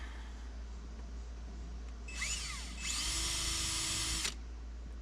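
A power drill bores a hole slightly larger with a 9/16 bit during a 2003 Mustang sound system install, giving two short whining bursts over a steady low hum, the second longer and steadier, fairly faint and without talk.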